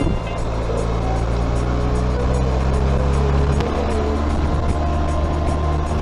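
A two-wheeled motorbike ride through a tropical setting on Mayotte, a steady loud engine drone with wind rush, continuous and close for the whole stretch.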